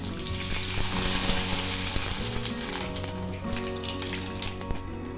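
Papad sizzles and bubbles in hot oil in a kadai, a continuous crackling fry with faint clinks, steady and close with no voices.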